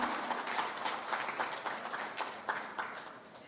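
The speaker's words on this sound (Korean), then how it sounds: "한 박수 부탁드립니다" Audience clapping at a ceremony for Separated Families Day, a steady patter of many hands that stays fairly even before thinning slightly toward the end.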